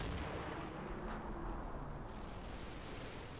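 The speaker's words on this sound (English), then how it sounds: "And still all of this MG fire going absolutely everywhere." Dense machine gun fire and distant battle noise in a WWII war video game, a continuous loud, rumbling wash of rapid shots running unbroken throughout with no talk.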